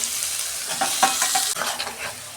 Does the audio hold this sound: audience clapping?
no